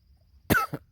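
A person coughs close by in a house under renovation, with one sharp harsh cough followed by a smaller second one, loud against a quiet room, no talking.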